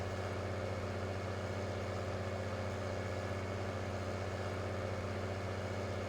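Tractor engine idling steadily with a heavy grain cart hitched behind, in the game Farming Simulator 19; a continuous low, even drone with no change in pitch, fairly loud and alone without talk.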